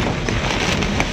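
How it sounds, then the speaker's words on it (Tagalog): Heavy rain pours down in a steady, dense hiss without letup, loud and close, with no voices over it. "Sobrang lakas ng ulan dito ngayon guys."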